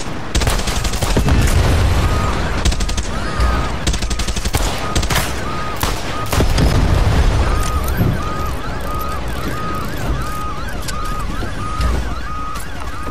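Rapid bursts of gunfire and heavy booming explosions from the video game Far Cry 6 crackle loudly and continuously in the foreground, with game sound effects and occasional talk mixed in.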